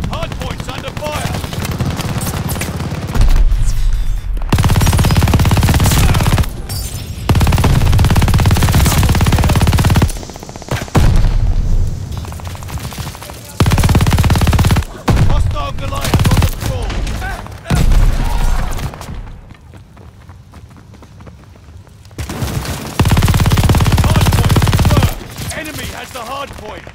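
Bursts of automatic gunfire around a hardpoint in Call of Duty Vanguard, loud volleys of rapid shots broken by short quiet gaps, with several separate clusters of fire.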